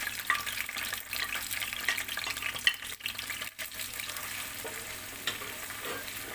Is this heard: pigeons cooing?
no